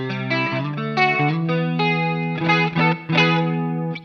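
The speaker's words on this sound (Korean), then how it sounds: "다음 프리셋, 웨이브즈라는 소리입니다." An Enya Inspire smart guitar plays on its clean Waves preset, warm shimmering chords ringing close and loud, with a few brief gaps between strums and no talking.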